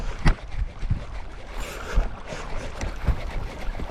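A kayak is towed through the water by a hooked Murray cod, giving irregular splashes and hull knocks over a constant rush of water, with several sharp thumps standing out.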